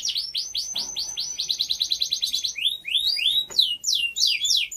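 Caged canaries singing and chirping up close, rapid repeated trills and rising whistled notes in quick bursts, bright and continuous with a few sharper calls toward the end.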